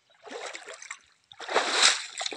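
Cold dam water splashes and sloshes close by as a person climbs out, in two bursts separated by a brief pause.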